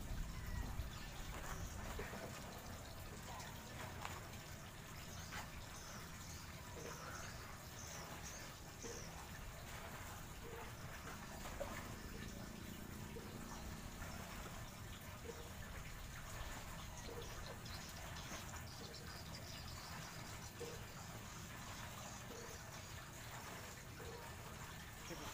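The Kampar River flows in a steady, even wash of rushing water that holds at the same level throughout, close and unbroken, with no talking.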